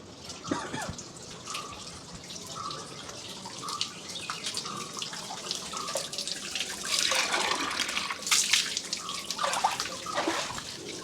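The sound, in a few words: water poured from temple cow-mouth spout into vessel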